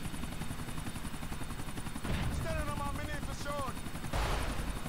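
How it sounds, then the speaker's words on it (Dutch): A helicopter in Grand Theft Auto IV gives off a continuous rotor thrum from start to finish, joined by bursts of gunfire and a short stretch of voice in the middle. "Helikopter, sneller."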